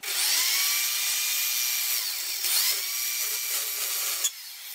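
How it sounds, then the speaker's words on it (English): A power drill with a very small bit bores a hole into the metal side of a 1915 Universal Toaster Model E947, giving a steady, close, whining grind that holds for several seconds and then stops abruptly. "we must drill a hole into the side of the device. Now obviously I'm using the smallest drill size I have"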